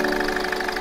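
A 2011 Ford Fiesta Classic diesel engine runs at idle in good condition, a steady close mechanical hum with a faint rhythmic knock and no voices.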